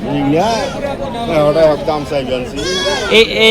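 Goats, including mother goats with kids, bleating up close at a livestock market, repeated quavering cries, some overlapping, loud against a background murmur of people talking.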